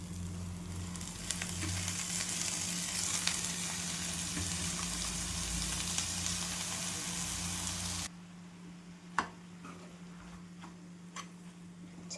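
Spinach hitting hot oil in a pan, a steady bright sizzle and crackle that drops away abruptly to quieter ticking and occasional light clinks.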